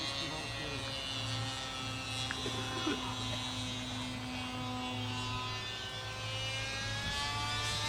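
Steady electric buzz of the XUAV One RC plane's motor at about one-third throttle in flight, a continuous even drone with faint pitch shifts, while people talk nearby.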